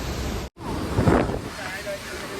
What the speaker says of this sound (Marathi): ही असा मंदाकिनी नदी खूप जोरात असं आवाज करत वाहत जाता